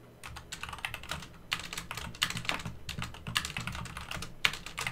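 Steady, fast typing on a computer keyboard during a Minecraft modpack session, clicking keystrokes in irregular bursts with brief pauses, close and clear with no voices.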